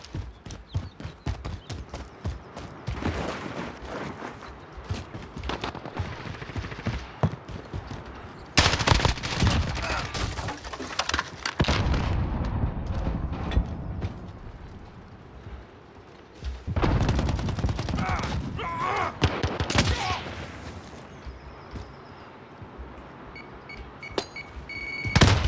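Gunfire from an online multiplayer match of Call of Duty Modern Warfare: repeated shots and rapid bursts that swell into loud, dense volleys, with quieter shooting in between.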